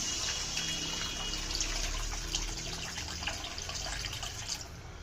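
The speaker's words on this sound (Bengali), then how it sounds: "এবার এর মধ্যে গ্রেভির জন্য দিয়ে দিচ্ছি জল।" Water pours in a continuous stream into cooked mustard masala for a pabda fish curry gravy, making a close, steady splashing rush that stops just before the end.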